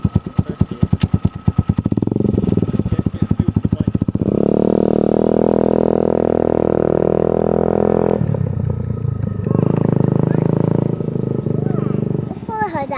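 A cafe racer motorcycle on Siargao Island revs and pulls away in first gear, its engine rising to a steady loud drone, dropping briefly, then droning again close by, with people talking over it.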